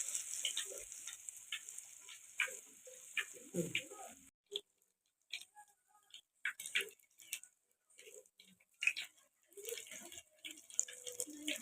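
Cucumber bajji frying in hot oil, a faint, crackling sizzle in scattered bursts with quiet gaps, close and soft.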